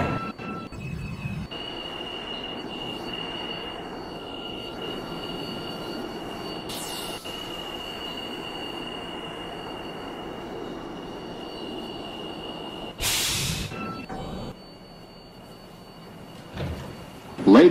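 A subway train in Roblox Subway Testing hums steadily as it pulls away, a tonal whine over rumbling wheels, broken by door slides and sharp bursts near the end.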